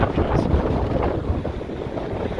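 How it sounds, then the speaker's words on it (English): Strong wind roars and buffets steadily against the microphone, a constant low rumble with no other clear sounds. "It's so windy."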